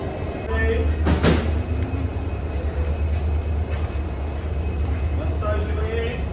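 At Yesvantpur station, a diesel locomotive leading the Gommateshwara Express on the Yesvantpur to Mangaluru run gives a steady, deep rumble and hum, with a brief sharper clank near the start.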